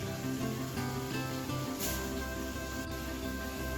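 Very fatty mutton is added to well-fried spice masala in a home kitchen pan, giving a soft, steady sizzle and hiss that runs evenly without talking.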